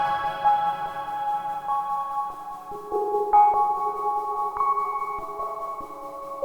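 A one-oscillator modular synth patch with velocity modulation removed plays a sequence of sustained, slightly buzzy tones that shift pitch every second or so, with soft clicks at the note changes and no voice.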